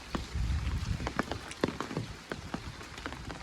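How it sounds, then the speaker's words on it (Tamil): Steady outdoor rain patters on the ground, with scattered sharper drops hitting a surface close by, and no talk is heard. "மழை பெய்யுது"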